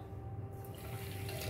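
A steady stream of water pours onto sugar in a container nearby, a continuous splashing rush that grows slightly fuller toward the end.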